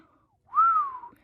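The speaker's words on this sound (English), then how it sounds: "She whistled." A woman whistles once, a single clear note that swoops up and then glides down, alone in quiet.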